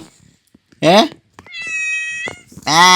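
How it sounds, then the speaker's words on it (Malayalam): Two clear meows sound close by, separated by a brief higher tone, each short and distinct. "മ്യാവ് എന്നാണ് നമ്മളെ പൂച്ചക്ക്"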